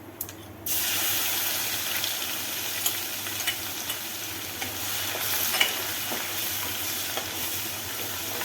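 Garlic and ginger paste sautéing with spices in a pan for dum aloo, a constant close hiss of frying that swells as the paste goes in, with occasional light utensil taps and no speech.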